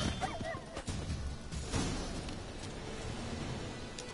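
Wild, gaunt, scabby dogs in the video game Witcher 3 bark and yip in short bursts, with a whimper among them, fairly close over a rough background.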